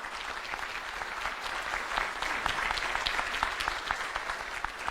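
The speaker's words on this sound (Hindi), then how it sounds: "मैं चाहूंगा उस भगवान के रूप एचपी शर्मा जी के लिए एक बार जोरदार ताली बजा दिए, जोरदार ताली बजाई" A crowd gives loud, sustained applause, the dense clapping filling the room steadily throughout and swelling slightly midway.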